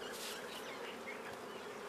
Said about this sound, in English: We split them out and quickly brushing the bees off